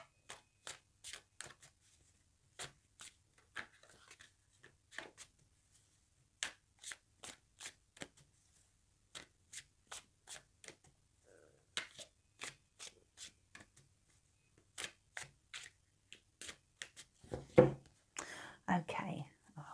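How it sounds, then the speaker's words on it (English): Housewives Tarot cards are shuffled by hand, giving a rapid series of crisp, close, quiet riffle and snap bursts in an irregular rhythm, ending in a denser rustling flurry. "Okay, one more shuffle."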